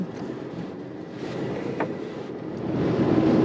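A 1965 VW Beetle drives on a very windy day, with a deep, steady rumble of wind and road noise swelling louder toward the end, and no talking.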